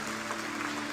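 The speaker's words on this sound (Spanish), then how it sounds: "Dale un fuerte aplauso al Rey de la Gloria." A church congregation gives a strong burst of applause during a worship service, a dense, even roar of clapping filling the hall.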